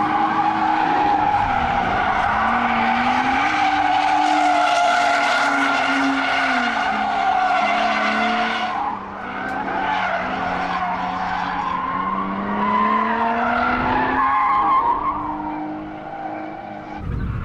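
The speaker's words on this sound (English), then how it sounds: "They think they're so cool in their little BMWs. Skidding around!" BMW cars drifting at a drift event, engines wailing through rising and falling revs while tires squeal continuously, loud and close with no talking.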